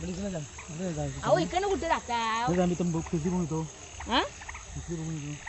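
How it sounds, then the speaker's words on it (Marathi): Frogs croak steadily through a night outing to catch crabs near Khed, Ratnagiri, a continuous chorus mixed with insect-like chirring beneath loud, close voices talking. "पण ते बेडूक ओरडतात"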